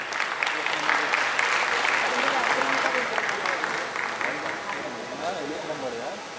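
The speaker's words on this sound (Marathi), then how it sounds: "यांच्याकडे एकदा जोरदार टाळ्या झाल्या पाहिजे" An audience at a film trailer launch event bursts into loud, sustained applause, the dense clapping filling the hall and gradually thinning toward the end, with a voice faintly audible underneath.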